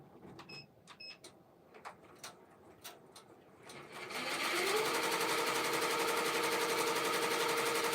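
A few scattered clicks and knocks, then a sewing machine starts up and back stitches with a steady, close mechanical whir for the last several seconds, at a vending event.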